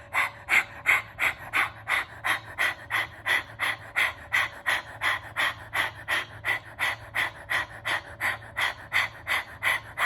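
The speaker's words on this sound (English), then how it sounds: "you're going to pant like a dog, breath of fire from your diaphragm" Rapid, rhythmic panting of the breath-of-fire exercise, forced from the diaphragm like a dog: about two sharp, even breaths per second, close and steady, with no talking.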